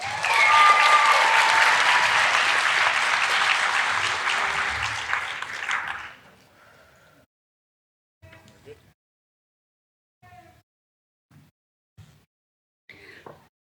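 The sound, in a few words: applause at a school graduation ceremony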